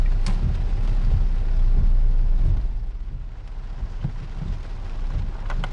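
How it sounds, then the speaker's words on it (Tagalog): Heavy rain pours down in a dense, continuous roar, loudest at first and easing slightly, with a few sharper drips and thuds nearby. "Lakas ng ulan."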